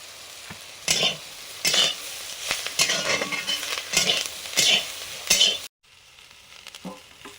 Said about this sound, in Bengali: ঝাল সুজির জন্য সবজিটা ভাজা হয়ে গেল